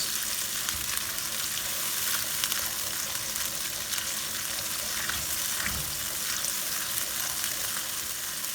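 Onions frying in oil in a pan for kadai chicken give off a steady, close sizzle with a few faint stirring scrapes and no talk.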